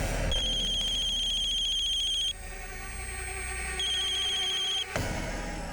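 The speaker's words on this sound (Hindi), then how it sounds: "अननोन नंबर से फोन है सर" A phone ringtone from an unknown caller trills in two clear bursts of repeated electronic tones, close and loud, with a pause between them and no talk over it.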